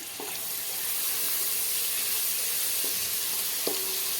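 Onions fry with ginger garlic paste in a pan for egg biryani, giving a steady, bright sizzle close by, broken by a few soft clinks of stirring.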